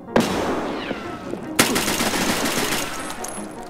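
Video game gunfire in Escape from Tarkov's horde mode, with a sharp opening shot and another burst partway through, then a dense, sustained wash of rapid firing and battle noise.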